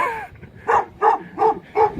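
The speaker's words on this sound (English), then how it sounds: "I feel bad that this dog won't shut up." A dog barks four times in a steady rhythm at the top of a mountain near a lookout tower and antenna towers in the Newfound Mountains, North Carolina; the barks are close and clear with no talk over them.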